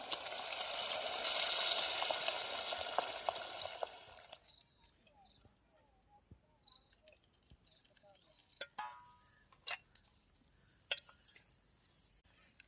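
A loud steady rush of water poured into a pan of fish for about four seconds, then it stops, leaving quiet sounds with scattered clinks and light taps.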